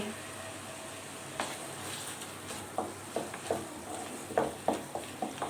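Garlic, ginger and spices fry in a pan with a faint, steady sizzle, broken by a series of sharp utensil taps and clinks that grow more frequent toward the end.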